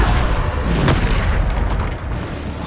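Bombarda spell explosions in the video game Hogwarts Legacy: a loud, dense booming roar with a sharper blast near the start, then sustained rumbling debris noise that eases slightly toward the end.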